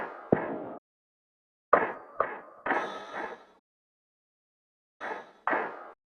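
Chopped percussion loop for an R&B sample, short bursts of hand-percussion hits in irregular clusters separated by dead silence, close and dry.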